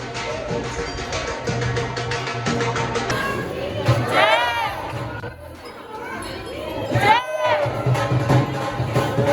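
A dense, noisy crowd packed around the Bhuradev temple, many voices chattering and calling out at once, steady and close throughout with occasional louder shouts.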